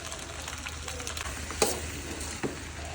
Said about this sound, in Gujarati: મારી બહેનો આ રીતે મસ્ત હલાવી દેવાનું પાસ્તા